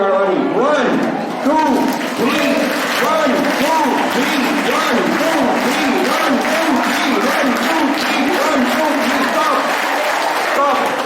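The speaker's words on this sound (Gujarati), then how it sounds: "જોરથી તાળીઓ વગાડવાની" Loud, sustained clapping from a big crowd of students at a school farewell gathering, dense and continuous for the whole stretch with no talk.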